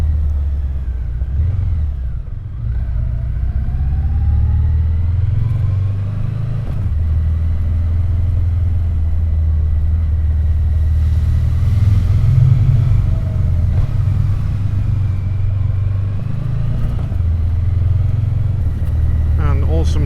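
A Triumph Bonneville T120 motorcycle rumbles steadily with a deep, close engine drone while being ridden, its pitch shifting gently with throttle, heavy wind noise mixed in, under someone talking throughout.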